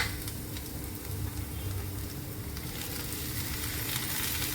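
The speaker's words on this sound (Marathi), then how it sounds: "आता इकडे कांदा हे झालाय. त्यामध्ये मी आता टोमॅटो सुद्धा थोडा परतून घेणार आहे." Onion and tomato sauté in a hot pan with oil, giving a steady, even sizzle that holds at a moderate level with no pauses.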